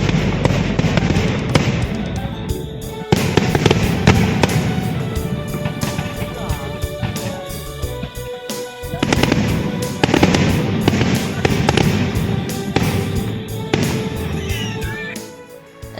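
Firecrackers burst during Diwali celebrations in Delhi, loud rapid crackling volleys with sharp bangs, continuous and dense, with a short lull midway before the popping resumes.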